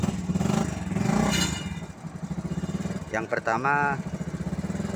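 A Suzuki Carry 10 small pickup fitted with a Suzuki Thunder 125 motorcycle engine idles and chugs nearby with a steady pulsing beat and a brief rev, while someone talks over it.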